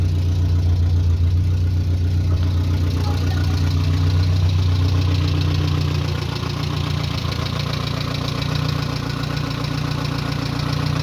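A Talbot Horizon 1.1 engine idles steadily with a low, even exhaust rumble and a slight knocking pulse, running close and loud throughout with no talk over it.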